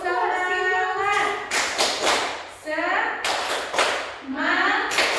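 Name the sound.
class clapping a spirit clap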